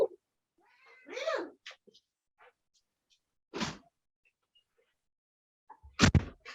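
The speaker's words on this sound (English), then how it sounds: "Did you hear Percy meowing?" A pet cat meows several times in short, separate calls with quiet gaps between them, close to the listener, and the last call comes out loud and strained like a yowl.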